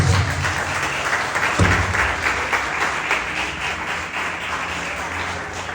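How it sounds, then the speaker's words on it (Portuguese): A church congregation claps during a worship service, a full, sustained wave of clapping that stays loud and even throughout. "E as palmas logo ao Senhor."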